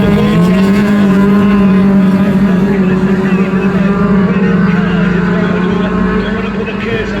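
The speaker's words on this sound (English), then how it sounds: "he's pulling away from the two other cars, Jack Hodgson and Joshua Delian" Race cars in a men's national championship race circle a track, their engines droning loud and steady with a rising and falling pitch, while a commentator talks over them.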